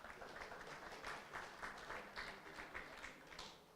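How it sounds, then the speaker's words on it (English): An audience at a network operators' conference claps in a round of applause, a steady patter of many hands at a moderate distance that tapers slightly at the end. "A round of applause for them."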